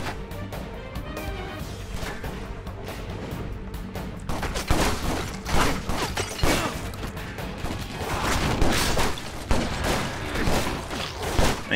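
Shotgun fire in Stranglehold during a close-range boss fight, with a dense run of loud blasts, crashes and debris that grows busier partway through and keeps going over a steady roar of battle.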